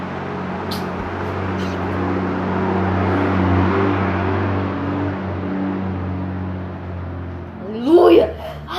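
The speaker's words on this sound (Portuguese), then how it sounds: "espero só esse caminhão parar" A truck passing outside makes a steady low engine rumble that swells and fades across the stretch, heard indoors from a distance, with a brief scrape of handling nearby near the end.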